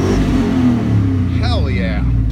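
A 2001 Chevy Denali's 6.0 LQ4 V8 runs and revs, a steady low engine drone with a quick rising rev, while a person talks over it.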